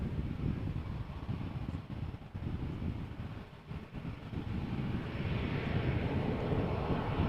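Aircraft landing at Amsterdam Schiphol Airport, its engines producing a steady broad roar mixed with wind noise, heard from a distance and swelling slightly louder toward the end.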